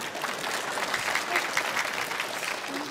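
Live comedy talk show crowd clapping, a continuous moderate burst of applause from many people, fairly even throughout, with faint tonal bits poking through and no talking.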